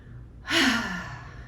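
A single audible exhale during an exercise class, one long breathy sigh that swells quickly and fades over about a second, close and fairly loud.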